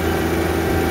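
A tractor engine runs steadily while pulling a Redlands RRR 626 six-arm hay rake, giving a loud, close, continuous low rumble with no breaks.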